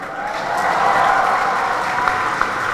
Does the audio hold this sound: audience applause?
yes